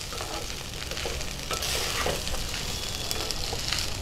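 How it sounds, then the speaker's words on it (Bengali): Rice for kanika bhog is dry-fried and stirred in a pan, giving a steady close sizzle with scraping and stirring noises and no voices. "এবার চালটা আমি একটু ভাজা ভাজা করে নেব।"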